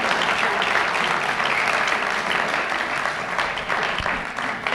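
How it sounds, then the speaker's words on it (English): Sustained audience applause fills a college awards evening, loud and dense, holding steady without talk over it. "So give him a round of applause."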